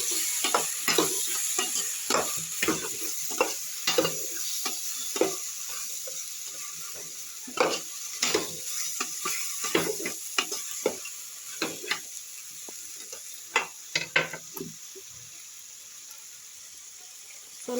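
Brinjal curry with peanut powder being stirred in a frying pan, a steady sizzle with repeated scraping and clacking of the spoon against the pan, close and continuous throughout.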